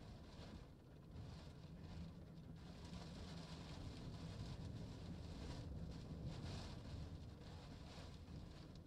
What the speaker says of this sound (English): That's kind of a good example of what the wind is doing.